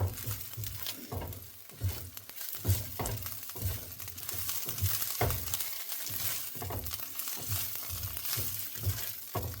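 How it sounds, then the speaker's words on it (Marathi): Ginger garlic paste fries in a pan for a cashew curry, making a soft, quiet crackle with regular stirring scrapes pulsing every half second or so throughout. "या स्टेजमध्ये आपण जिंजर गार्लिक पेस्ट घालायची आहे, ती चांगली फ्राय करून घ्यायची आहे."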